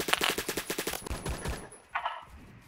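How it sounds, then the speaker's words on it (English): Semi-automatic WWII rifle fire in the video game Phantom Forces: a rapid, evenly spaced string of about nine loud shots, then a few heavier reports and a short burst near the end. "It's either one of these semi-automatic World War II rifles."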